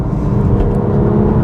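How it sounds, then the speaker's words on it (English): A BMW M2 Competition engine briefly blips and rises in revs during a downshift rev-match, a short, steady, close mechanical roar with no voices. "There, you can hear it raising the revs."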